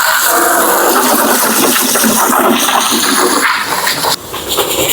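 Water running into a bucket with car shampoo for a motorbike wash, a loud steady splashing hiss close by that eases slightly near the end as suds build.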